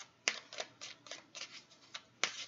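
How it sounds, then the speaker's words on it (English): Tarot cards are shuffled quietly close by in a series of soft riffling, snapping bursts with short gaps between them. "Alright, let's try to finish shuffling."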